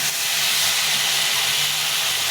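Water poured into a pan of potatoes frying in oil, for a fish curry, sets off a loud, steady sizzling hiss that fills the whole moment without pause.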